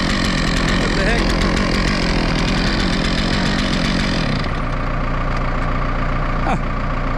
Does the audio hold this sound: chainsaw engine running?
yes